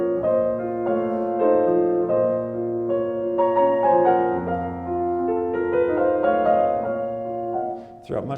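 Solo piano plays a Chopin nocturne passage with a duet texture in the right hand, two melodic voices moving over sustained harmony, clear and close with no talking.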